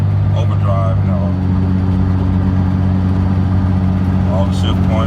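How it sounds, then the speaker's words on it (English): A 2004 Dodge Ram with a repaired 48RE transmission driving along, its engine a loud steady low drone with a subtle change in pitch as it shifts gears, continuous and close from inside the cab. "It shifts every gear now."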